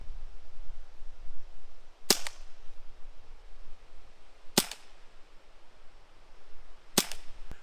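A 19-shot .177 BB airgun pistol, semi- or fully automatic, fires three sharp, loud single cracks spaced a couple of seconds apart over a faint steady background hiss, with no talking.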